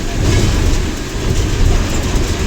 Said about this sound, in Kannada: ಸರಿಯಾಗಿ ರೋಡ್ ಕಾಣಿಸ್ತಾ ಇಲ್ಲ ಅಷ್ಟೊಂದು ಮಳೆ ಬರ್ತಾ ಇದೆ